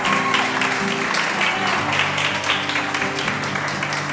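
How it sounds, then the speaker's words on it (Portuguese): A church congregation applauds in a sustained, even wave during a prophetic word service, with music and voices underneath the clapping. "Pode aplaudir o Rei"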